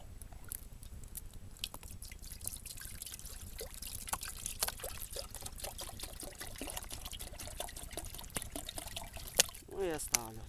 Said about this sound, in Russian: Наливаю воды.